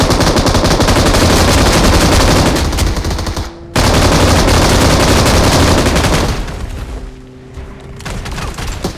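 Sustained automatic gunfire from the PUBG Mobile game, loud and dense bursts running nearly throughout with a brief gap near the middle and a quieter stretch toward the end.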